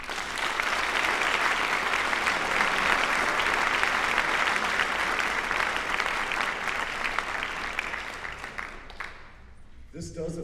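An audience at the 2014 Neenah High School senior awards breaks into loud, dense applause that holds strong for several seconds, then tapers off and dies away near the end.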